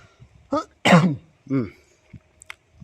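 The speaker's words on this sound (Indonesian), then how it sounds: "Sorry batuk ya." A few short, close coughs in quick succession, with a sharp throaty burst in the middle, followed by quiet clicks.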